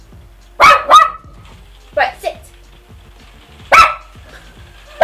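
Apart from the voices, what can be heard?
dog barking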